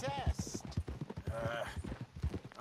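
Horse hooves clip-clop at a steady trotting rhythm in Red Dead Redemption 2 while a rider hunts a legendary bear; the hoofbeats run close and clear throughout, under continuous conversation between characters.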